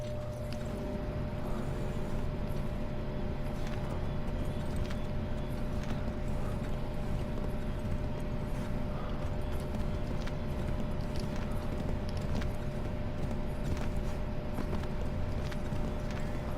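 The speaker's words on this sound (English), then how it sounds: "Get back on the horse, Connor." Horse hooves clip-clop at a steady running pace in a video game set during the American Revolution, a continuous rhythmic pounding over constant game ambience and music, with no talking.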